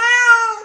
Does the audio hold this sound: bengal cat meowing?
yes